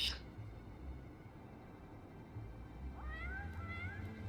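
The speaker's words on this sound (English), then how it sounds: "Two meows!" A cat meows twice in Final Fantasy 14. The first meow is short and bright and comes at the start, and the second is longer and rising and comes near the end, both over a steady low background hum.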